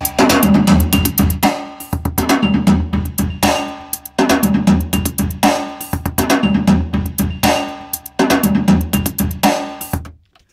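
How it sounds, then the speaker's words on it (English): A steady, looping drum machine beat with punchy kick and snare hits and bright cymbals, loud and continuous with short breaks. "with a drum machine that sounds something like this"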